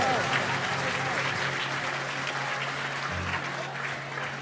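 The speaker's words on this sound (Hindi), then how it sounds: "जोरदार ताली हो जाएगा। अच्छी बजाओ, दोनों हाथ उठाओ।" A large audience at a religious gathering at the Tirthoday Tirth pilgrimage site in Golakot claps loudly and steadily the whole way through, a dense, continuous wash of applause with a low hum underneath.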